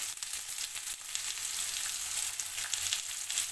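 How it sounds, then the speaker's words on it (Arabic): Chopped onion frying in a pan, softening and turning golden, gives a steady close sizzle with soft crackling throughout, without any talk. "نخليو البصله ديالنا تدبل وتاخد اللون الذهبي ديالها"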